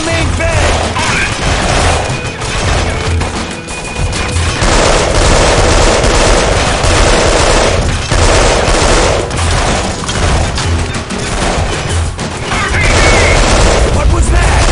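Heavy gunfire in the game Delta Force Black Hawk Down, with dense loud volleys of automatic fire and booms crashing almost nonstop, and voices talking underneath at times.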